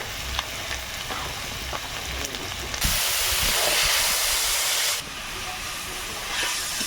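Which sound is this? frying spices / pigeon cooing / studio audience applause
frying spices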